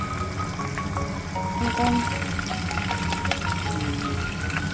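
Pork belly deep-frying in hot oil for lechon kawali, a steady close sizzle and bubbling crackle, moderately loud and continuous, with no talking.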